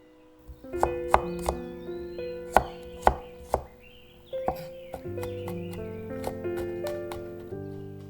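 Knife chopping green onion on a cutting board: a string of sharp, irregular chops heard over steady background music.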